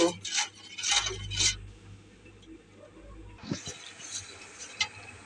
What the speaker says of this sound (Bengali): এখন নাড়া দিতে থাকবো, দিয়ে ঘন করব।